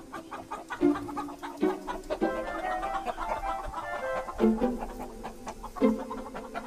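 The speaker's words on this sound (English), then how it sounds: "So the chickens were unloaded." Chickens cluck repeatedly at close range, a string of short, uneven calls with a few louder squawks over a soft, continuous farmyard background.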